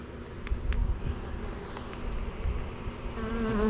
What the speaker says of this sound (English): There's going to be a lot of bees.